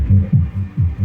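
A Joson Mars Max subwoofer speaker thumping out deep bass in a pulsing, throbbing rhythm, loud and close with a humming low end and no voices.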